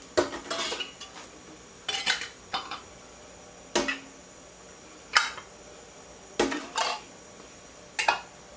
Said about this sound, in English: Now, I will take these lids one at a time and put them on the jars.